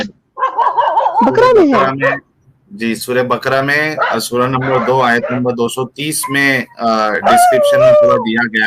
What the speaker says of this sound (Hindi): ये कुत्ता कहाँ से भौंक रहा है, किसके ऊपर भौंक रहा है?